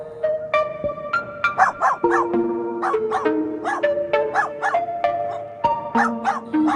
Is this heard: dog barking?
yes